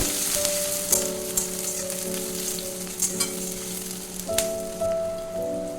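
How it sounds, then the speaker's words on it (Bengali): Two chopped medium onions frying lightly in a pan with a little cumin, giving a steady crackling sizzle, with a few sharp clicks from stirring and a faint background hum. "আমি দুটো মিডিয়াম সাইজের পেঁয়াজ কেটে নিয়েছি এটা দিয়ে দিচ্ছি হালকা ভেজে নেব"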